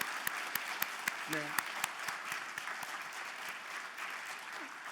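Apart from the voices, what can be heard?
audience applause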